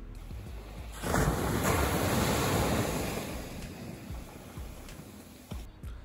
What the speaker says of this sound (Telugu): అలల సౌండ్ కూడా హెవీగా వస్తుంది